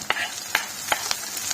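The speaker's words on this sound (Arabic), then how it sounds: "غادي نخليها حتى هي كتشحر واحد شويه" Onion and peppers sizzling in a pan, a steady soft frying hiss broken by several short scraping stirs at irregular intervals, close up and without talk.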